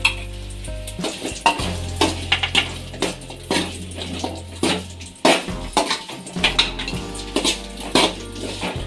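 Cut drumstick (moringa) pieces fry in hot oil with a steady crackling sizzle, punctuated by repeated loud scrapes and clanks of a spoon stirring against the pan.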